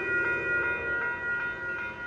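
Union Pacific train passing near Lincoln Park in Los Angeles, a loud, steady rumble with sustained tonal whine and faint rhythmic pulses, close by and without voices.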